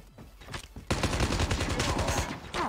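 Gunfire in the mobile shooter game Call of Duty Mobile, including a sniper shot: a loud sudden blast that opens into dense, sustained bursts of shooting close by, with a brief second surge near the end.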